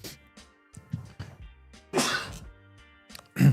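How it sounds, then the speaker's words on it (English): A person sneezes indoors, with a sharp burst near the middle and another loud one at the end, separated by quieter clicks, breaths and low noises. "stop sneezing. Shut up."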